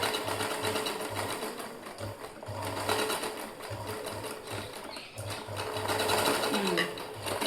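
A zigzag sewing machine stitches the fall onto a saree edge, running in steady rhythmic bursts with brief pauses, close and fairly loud, with faint voices underneath.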